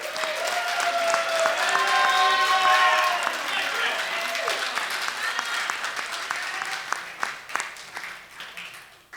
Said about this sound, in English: Ladies and gentlemen, please give them another round of applause.